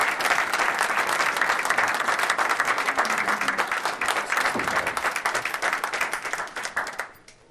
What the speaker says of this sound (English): we congratulate you on behalf of this community. Round of applause